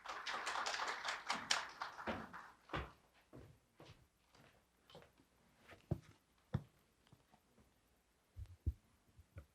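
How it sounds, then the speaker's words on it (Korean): An audience at a public hearing on a national space development plan gives a brief round of applause that fades after a few seconds, leaving scattered taps, footsteps and small knocks in a quiet hall. "큰 박수로 맞아 주십시오"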